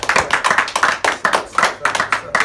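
Sharp, quick hand claps ring out in an uneven burst that sounds like a few people applauding close by rather than a large crowd.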